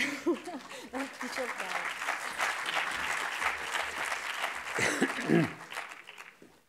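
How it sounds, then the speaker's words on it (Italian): A room full of people applauds steadily for several seconds at an Italian-language talk, with a voice speaking briefly at the start and again as the clapping fades. "È imbarazzante essere accolto con dei, degli applausi preventivi"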